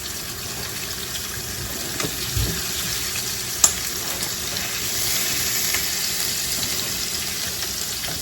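Turkey wings frying in a pan give a steady, close hiss of sizzling oil with a few soft knocks and clinks along the way.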